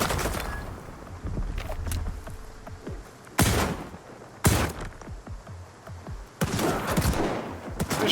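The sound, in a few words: underbarrel shotgun firing in video game Stalker 2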